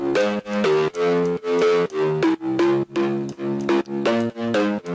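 Electronic dance synth bass with its lows cut and its filter shaped pulses in a bouncy repeating pattern of sustained notes with rhythmic swells and gaps, steady and up front.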